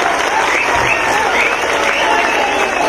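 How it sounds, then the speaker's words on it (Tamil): A large crowd at a BJP political rally in Tamil Nadu welcomes a speaker with loud, dense applause that stays strong and even the whole way through, close and enveloping. "ஒரே ஒரு முறை பலத்த கைத்தட்டலுடன், கரகோஷத்துடன் நீங்க நம்முடைய முருகன்ஜி அவர்களுக்கு ஒரு பெரிய வரவேற்பை கொடுக்க வேண்டும்"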